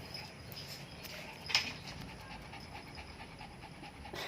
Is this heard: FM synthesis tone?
no